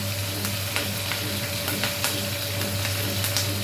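Curry leaves sizzle and fry steadily in hot oil in a pan while Goan crab xacuti is being cooked, a continuous close crackle with small pops and no talking.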